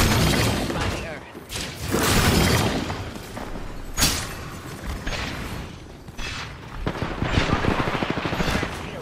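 Shield cracking in Apex Legends, heard as sharp shattering bursts amid dense gunfire and loud action effects, with voices talking over the game throughout.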